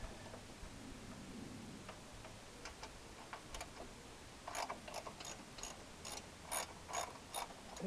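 A ratchet loosens bolts on a 1993 12.5-horsepower tractor with the hood in the way. Faint scattered clicks come first, then a run of crisp, rhythmic ratcheting clicks in the second half, close by and unaccompanied by talk.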